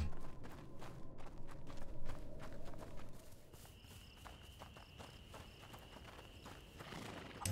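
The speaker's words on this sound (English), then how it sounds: "That horse is fine." Irregular hoof clops from a horse walking in the video game A Plague Tale: Innocence, moderately close, over a bed of rustling ambient noise and faint insect chirps, with a steady high tone later.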